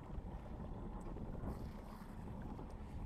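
Low, steady rumble of a cruising sailboat's engine throttling up after leaving the pontoon, mixed with wind buffeting the microphone and water noise, continuous and moderately faint.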